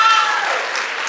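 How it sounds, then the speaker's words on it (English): Audience at a leadership summit bursts into applause, a dense, even wash of many hands clapping, loud and close, fading slightly over about a second. "Oh, big round of applause."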